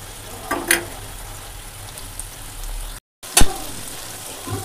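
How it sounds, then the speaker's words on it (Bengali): Soybean chunks frying in oil for chili soya, a soft continuous sizzle with a few sharp spatula scrapes and clacks as they are stirred, briefly cut to silence midway. "এগুলো একটু তেলের সঙ্গে নেড়ে চেড়ে নেব।"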